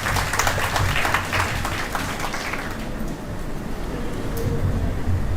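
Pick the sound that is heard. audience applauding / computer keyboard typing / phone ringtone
audience applauding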